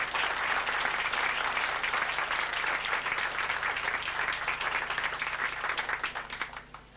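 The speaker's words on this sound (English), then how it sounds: "let's give Bob Ochsler a real round of applause and welcome him to Pensacola" An audience in Pensacola gives a welcoming round of applause for a visiting speaker, a full, sustained roar of many hands clapping that holds steady and then tapers off at the close.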